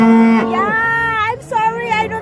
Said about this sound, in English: Look at the heifer one. They're so cute. The calf. They're so noisy.